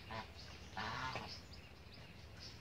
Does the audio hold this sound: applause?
no